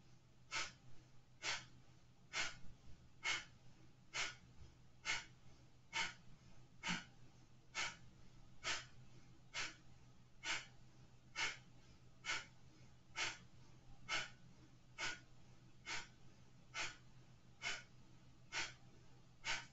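Slow, steady breathing during a yoga breathing exercise for the lungs, with sharp active exhales pulled in at the belly repeating at an even pace, about one per second, over a low constant hum.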